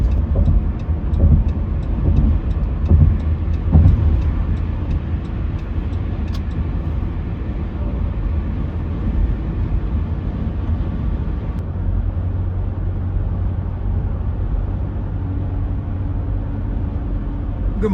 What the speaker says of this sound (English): Currently driving to Table Rock Park to meet up with Taz.